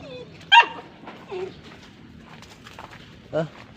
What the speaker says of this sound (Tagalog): Dinaanan ng aso.